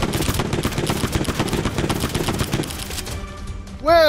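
Rapid automatic gunfire in a video game rattles in close, dense bursts for a few seconds, then cuts off, leaving quieter game sounds and a short rising electronic sweep at the end.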